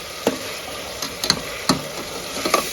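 Masala and tomatoes fry steadily in a pan for pulao, a low continuous sizzle broken by a few sharp ticks and scrapes of stirring, close and without talk.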